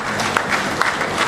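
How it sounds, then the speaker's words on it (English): An audience applauds for Prince Adetokunbo Kayode, a short burst of steady clapping from a gathered crowd with a few sharper claps standing out. "I think we all need to give him an applause"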